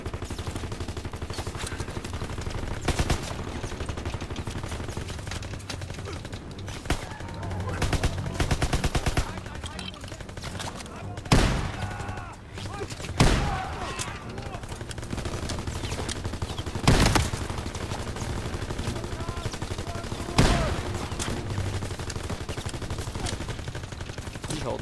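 MG42 machine gun fire in the video game Call of Duty WW2, with long sustained bursts of rapid automatic shots and several sharp louder blasts over a dense battle din, plus occasional talk.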